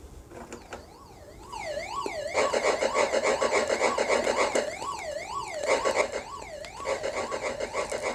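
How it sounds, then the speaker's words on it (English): A warbling electronic siren from the Atari 2600 game Alien rises and falls in a steady repeating sweep, joined by a buzzy mechanical game tone that keeps playing throughout. "Now you can hear that siren in the background."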